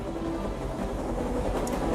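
A Swanage Railway train in Dorset runs along the line, a steady low rumble with faint rhythmic rolling and clatter from the wheels, moderately distant and without voices.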